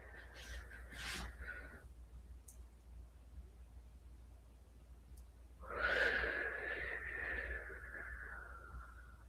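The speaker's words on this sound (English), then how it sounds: "let's breathe in again" Slow, deep breaths drawn in, faint and slightly whistly: a short inhale at the start, then a longer, louder one after a pause.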